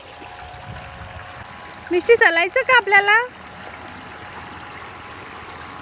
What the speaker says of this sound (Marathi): मस्त नदी अशी छोटीशी.